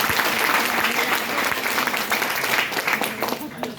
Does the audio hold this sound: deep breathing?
no